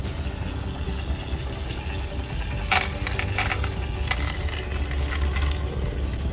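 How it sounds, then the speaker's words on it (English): A small motor inside a Jebao automatic fish feeder winds steadily, a soft continuous mechanical whir with a few light clicks and ticks from the dispensing mechanism, heard close up with no talking. "That was the motor winding."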